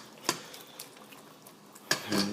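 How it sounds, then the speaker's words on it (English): A utensil stirring shrimp spaghetti sauce in a pot, with two distinct scraping clinks against the pot about a second and a half apart and soft wet movement in between, close and fairly quiet. "I'm gonna stir it up a couple bit more."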